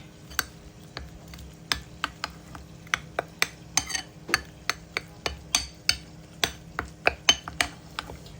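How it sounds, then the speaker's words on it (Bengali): A spoon knocks against a pot or bowl while the spice mixture for chicken leg biryani is stirred, producing a steady run of sharp, close clinks and taps about twice a second over a low background hum. "এবার সুন্দর করে এই মিশ্রণটা মিশিয়ে নিচ্ছি।"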